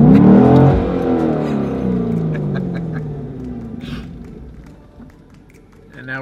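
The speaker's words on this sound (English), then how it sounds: "Slowly let off of your third brake and slam on the gas" A car accelerates hard in reverse, the engine surging loudly at first with rising then falling revs as it pulls away and fades, with some brief clicks near the end.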